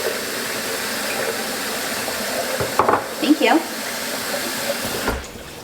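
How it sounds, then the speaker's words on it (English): Tap water pouring into a pitcher, a steady rushing stream with brief louder splashes midway before cutting off near the end, close, with a short spoken remark. "I'm just gonna fill it up with a little bit of water."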